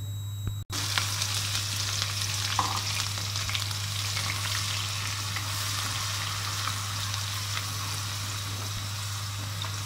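Onions fry in hot ghee in a pan, giving a continuous dense sizzle with faint crackles and occasional stirring, steady and close throughout, with no one talking.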